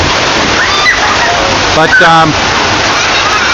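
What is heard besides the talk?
heavy rain and water pouring off a roof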